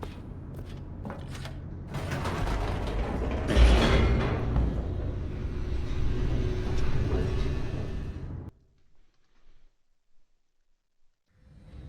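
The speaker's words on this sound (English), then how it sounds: "The elevator raced downward, plummeting towards an unknown fate." The Stanley Parable video game plays a loud mechanical rumble as an elevator descends, with creaks and clanks over a grinding drone that builds, holds for several seconds, then stops abruptly, leaving faint knocks.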